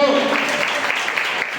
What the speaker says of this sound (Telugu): గట్టిగా చప్పట్లు కొట్టి స్తోత్రం చెప్పు